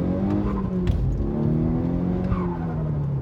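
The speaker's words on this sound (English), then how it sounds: "just had to pump that Land Rover" Land Rover engine revving hard with a sustained strained drone that rises and shifts, plus tire noise on the road, loud and continuous with no talk.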